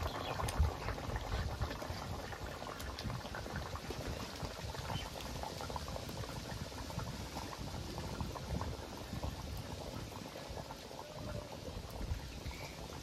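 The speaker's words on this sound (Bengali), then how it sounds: "জলটা কিন্তু ফুটছে। এই দেখো শব্দ হচ্ছে।" Water boiling at a steady bubbling churn in an open curry pot for aubergine and hilsa, a continuous dense burble of small pops at low volume with no voices.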